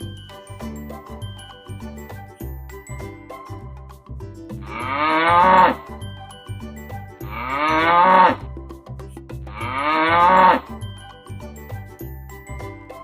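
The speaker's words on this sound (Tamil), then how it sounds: "மாடு," Cow lowing three times, each moo swelling in a long drawn call, close and loud above a background music track, in a farm animal setting.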